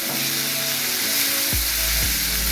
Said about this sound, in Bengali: কাঁচা লঙ্কা কুচি দিয়ে নাড়তে থাকবো